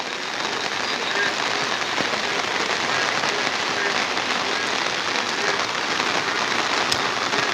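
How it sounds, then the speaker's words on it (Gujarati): Heavy rain pours down steadily, a dense constant patter drumming on surfaces close by, with no pauses throughout. "ફૂલ વરસાદ આવી રહ્યો છે"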